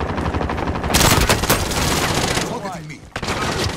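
Video game gunfire in a rooftop firefight, dense rapid bursts like automatic weapons fire that stay loud and near throughout, with a brief lull before more shots and a voice speaking over part of it.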